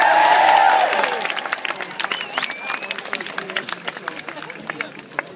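A large crowd at a Scottish independence rally at Holyrood bursts into applause and cheering, loud at first and then settling into steady clapping for several seconds.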